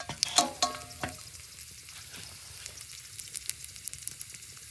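Garlic frying in hot oil in a pan, giving a steady close sizzle and crackle with a few sharper pops and clinks at the start and no talking.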